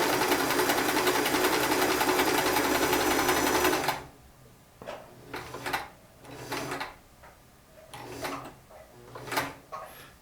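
Sears Kenmore 158 series free arm sewing machine stitching in a loud continuous run, then stopping and giving way to shorter bursts of mechanical clatter and handling.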